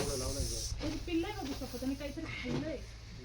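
A Russell's viper being handled for release gives a faint, breathy hiss, strongest at the start and fading under a man's nearby speech.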